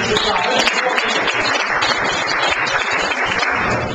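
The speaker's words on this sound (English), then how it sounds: "So give yourselves a round of applause, guys." Meeting audience applauding themselves, a dense steady wash of clapping filling the full four seconds, loud and close with no break.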